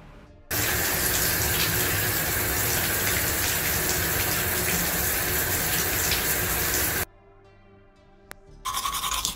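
Shower water runs in a loud, steady gush for several seconds, then cuts off abruptly, leaving faint drips and a quieter spray at the end.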